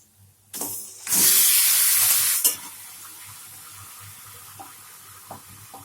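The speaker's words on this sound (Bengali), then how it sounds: "পেঁয়াজটা ভাজা ভাজা হয়ে গেছে। এবার আমি মাংসটা দিয়ে দেবো।" Chicken pieces dropped into a pan of browned fried onions give a loud sizzling burst lasting over a second, then settle into quieter crackling with light stirring sounds.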